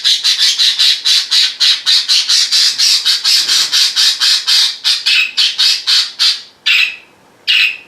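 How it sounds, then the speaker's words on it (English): A pet budgie gives a rapid run of loud, shrill squawks close by, about three or four per second, breaking into a few sparser, longer calls toward the end with no talking. "And that is Jens the Budgie"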